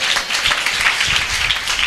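Audience applause at a Christian convention, a steady wash of clapping hands sustained through the whole moment, fairly loud and dense.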